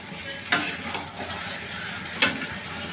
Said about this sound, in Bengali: এই যে মাংসটা ভাজা ভাজা হচ্ছে